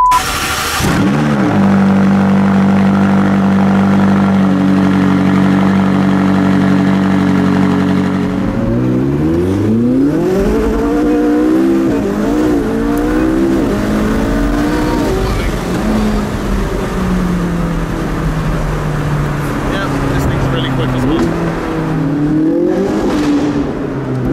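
A McLaren 675LT and a Porsche 918 Spyder drive in convoy, apparently through a tunnel, with a loud steady engine drone that gives way to repeated revving and gear-change sweeps, rising and falling close by.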